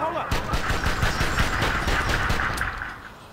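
Rapid gunfire rattles through a scene in the video game Def Jam Fight for NY, a dense, continuous burst of shots that fades near the end.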